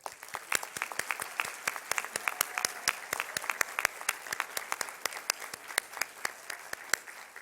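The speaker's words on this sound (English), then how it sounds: "Another big round of applause for our new students." New students at a university convocation are applauded by a fairly small crowd, with distinct individual claps sounding in a steady, even stream, close and clear.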